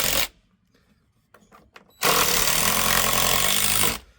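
Power driver running a screw into a porch rail from below on a historic front porch: a brief stutter, then a loud, steady two-second burst of close motor whir and grinding before it cuts off.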